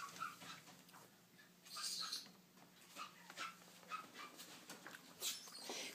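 Teacup Pomeranian puppy whimpering and yipping in short, high bursts while playing indoors, nearby and moderately loud, with scattered soft squeaks and shuffling between the cries.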